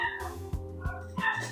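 A dog barks a few short, sharp times in the background of an indoor room, separated by brief pauses, with a faint whine between barks.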